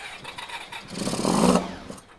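Honda VFR400 NC30 400cc motorcycle engine starting with full choke after reassembly, cranking that swells into a brief catch and roar lasting about a second before fading, close by with no talk.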